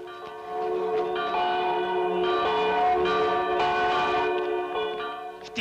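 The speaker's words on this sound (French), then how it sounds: "Qui est-ce qui sonne les cloches?" Church bells ring out in overlapping, resonant peals, several strikes sounding one after another and lingering in the air.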